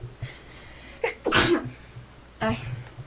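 A single loud, close sneeze bursts out after a short intake of breath, followed by a weaker second burst, in a quiet room.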